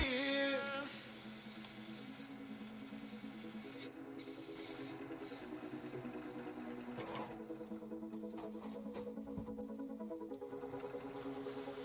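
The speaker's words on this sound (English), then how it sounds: "already done most of the sanding, so this is just 400 grit from Klingspor Abrasives" Fine 400 grit sandpaper rubs a spinning wooden honey pot on a lathe, giving a steady, even whirring hiss with a constant motor hum beneath it and no talk.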